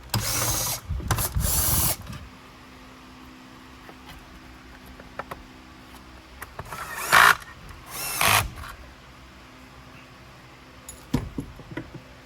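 Two screws are backed out of the brush roll guard on a Simplicity Symmetry / Riccar Vibrance vacuum nozzle, heard as short whirring bursts of a power driver with ratcheting clicks, separated by quiet pauses and small handling taps.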